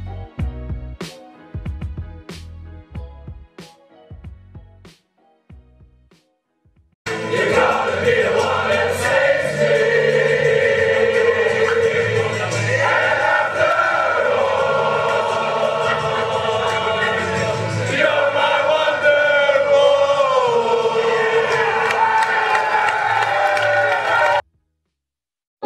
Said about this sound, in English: Some soothing crowd sounds to help you sleep.